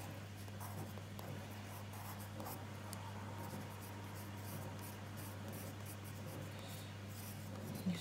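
A pencil pressed onto paper to build texture in a drawing, a soft continuous scratching and rubbing close up, with a low steady hum underneath and no talking.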